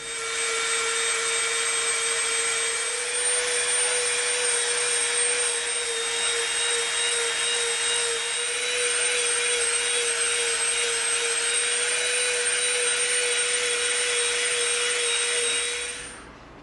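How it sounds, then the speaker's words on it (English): A Dremel rotary tool grinds along the edge of an EVA foam knife blade to taper it, giving a continuous loud high-pitched whine with a steady tone that holds throughout before stopping at the end. "We're going to Dremel this whole edge off right up to the center peak, giving us a nice taper."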